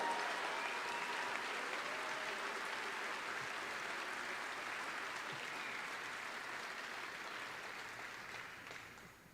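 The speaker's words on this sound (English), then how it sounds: "How about a round of applause?" A commencement audience at the John Cooper School applauds the Class of 2021, a broad, even roar of many hands clapping that holds steady and then slowly fades toward the end.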